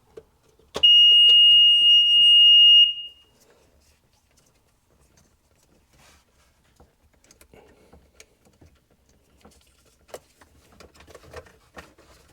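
A single loud electronic beep from a diagnostic device on a Sea-Doo GTX Di, holding a steady high tone for about two seconds, followed by faint clicks and quiet handling noises.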